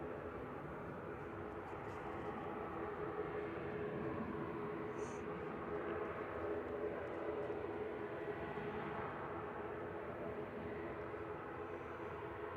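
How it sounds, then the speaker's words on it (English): EasyJet Airbus A320 Classic, 11 years old, lining up on the runway at Manchester Airport: a faint, steady, distant jet-engine hum that stays even throughout with no speech over it. "So just lining up now is EasyJet flight 2109, heading over to Paris Charles de Gaulle"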